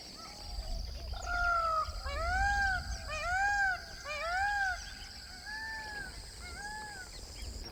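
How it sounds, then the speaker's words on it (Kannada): Peacock calling in the distance near a rural tribal village after rain, with other birds around: a series of repeated arching, wailing calls rising and falling over several seconds over a soft outdoor background, with no talking. "ದೂರದಲ್ಲೆಲ್ಲೋ ನವಿಲು ಕೂಗ್ತಾ ಇದೆ"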